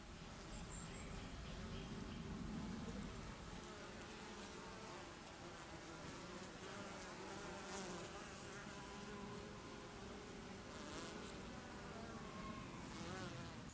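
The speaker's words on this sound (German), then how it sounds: "Und dieses Bienenvolk hier, das hat wohl seine Baumhöhle gefunden." A wild honey bee colony at its tree hollow produces a dense, continuous buzzing swarm sound, steady and fairly faint at a moderate distance, with no talking.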